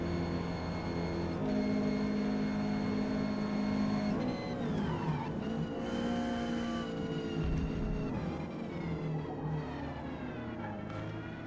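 A Ford Cortina race car engine in Forza Motorsport, D class at Grand Oak Raceway, drones and revs continuously, climbing and shifting pitch through gear changes, loud and close with no talk.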